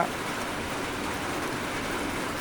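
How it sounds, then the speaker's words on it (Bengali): Steady, dense rain falling, an even wash of hiss with no breaks or voices. "বৃষ্টি পড়ছে"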